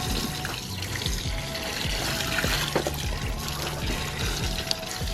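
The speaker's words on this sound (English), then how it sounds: "Now let's go ahead and turn on the hose here and see miracles happen." Garden hose spraying water over a Nardo Grey wrapped Shelby GT500 Mustang with a fresh ceramic coating, a steady close hiss of water with splashing and trickling that runs alone for the whole stretch.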